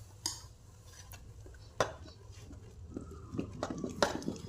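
A spoon stirs cardamom powder into flour in a bowl, giving soft scraping and a few sharp clinks against the dish, close and fairly quiet with brief pauses.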